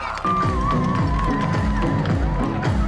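An audience applauds to open an OX quiz at an autumn food event in Hadong, with steady, close, continuous clapping and a tonal musical line running underneath.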